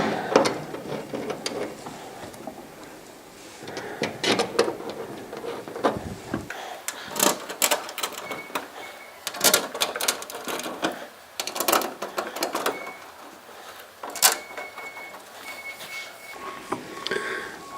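Small screws being driven into the front cover of a Santa Fe Classic humidity control, heard as faint close ratcheting and clicking bursts with short pauses, with no voices.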